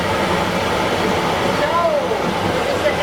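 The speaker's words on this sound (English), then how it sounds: "This engine runs the endless wire that you see here that pulls the train to the top." Steady broadband machinery roar fills the engine room of a 104-year-old wooden roller coaster at Tivoli Gardens, the engine driving an endless lift wire; a constant mechanical drone with a faint rising whine partway through, loud and close.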